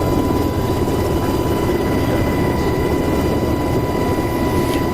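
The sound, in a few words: Apache helicopter lifting off in DCS World video game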